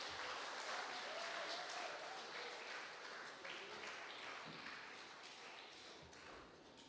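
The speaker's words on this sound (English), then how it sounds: "Class 1, shall we all give a big round of applause?" A school cultural day audience applauds as class 1 students are called onto the stage, steady clapping throughout, fairly distant and slowly fading.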